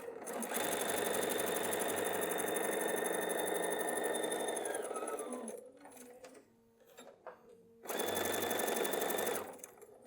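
A sewing machine stitches back and forth over ties on a flannel changing pad, a steady close whirring run that stops briefly around the middle and then resumes for a second burst.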